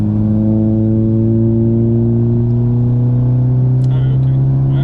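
A car engine on the Magny-Cours race track drones loudly and close, its pitch rising steadily as it accelerates, with a few brief clicks near the end.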